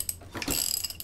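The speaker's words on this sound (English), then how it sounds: "I'm using my wrench, my ratchet, and we're gonna turn over this motor clockwise" Hand ratchet turning over a GM Ecotec L61 engine by hand for a compression test, a close, quiet series of rapid clicking pawl ticks and mechanical rasping lasting about a second.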